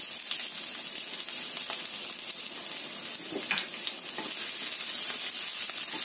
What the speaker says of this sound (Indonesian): Tumis sampai agak layu ya bawang merahnya